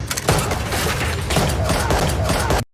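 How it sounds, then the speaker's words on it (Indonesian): Heavy gunfire from a big gangster shootout between Kudo, local mafia and Russian mafia, dense overlapping shots and booms filling the scene without pause, loud and close, cutting out abruptly near the end. "memicu baku tembak besar antara Kudo, kelompok mafia lokal dan mafia Rusia"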